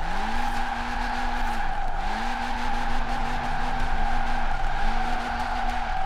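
A 1968 Abarth 595 drifts around a roundabout in Forza Horizon 4, a sustained loud tire squeal over the engine's drone, rising and falling in three long skids.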